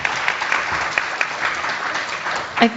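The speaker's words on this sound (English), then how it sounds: "I think that applause is what the sponsorship dollars go for, right?" Audience applause at a green building festival panel in Toronto, a steady even wash of clapping for about three seconds that swells slightly near the end.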